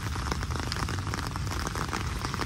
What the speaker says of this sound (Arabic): شوف المطر رجع